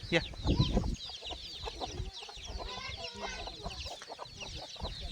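Free-range country chickens and chicks cluck and cheep close by in a busy, overlapping chorus, with a louder burst at the start and faint voices in the background.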